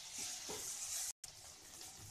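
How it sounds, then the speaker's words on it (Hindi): Fenugreek seeds being stirred into spices frying in a pan: a soft, steady sizzle with a few scraping stirs, close and quiet, cut by a brief dropout. "अब हम इसमें मेथी दाने डाल लेंगे और इन्हें अच्छे से मिक्स कर लेते हैं।"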